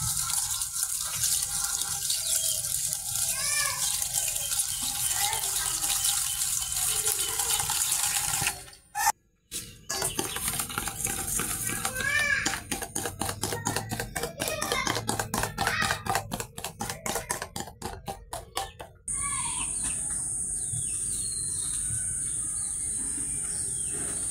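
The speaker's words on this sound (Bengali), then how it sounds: "ডিম, সয়াবিন তেল আর আখের গুড় ভালো করে মিশিয়ে নেব।" Eggs, soybean oil and jaggery are beaten together for a cake, producing a steady, close rattle of whisking with a fast rhythmic clatter in the middle and a short pause just before it, with no talk.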